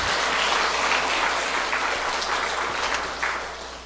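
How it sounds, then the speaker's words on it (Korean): Church congregation applauding during a sermon, a dense, steady wash of many hands clapping close by that fades slightly toward the end, with no talk over it. "박수 한번 쳐주세요."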